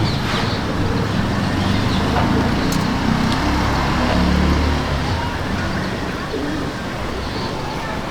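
Madrasi pigeons coo in a breeding loft, their low murmuring steady under constant broadband background noise, with faint traffic rumble and occasional brief chirps.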